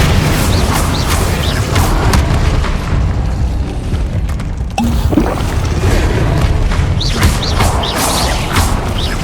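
Incendio fire spell bursts in a Hogwarts Legacy boss battle, loud dense rumbling booms and crackling blasts filling the whole stretch, with a brief dip in the middle before the roar resumes.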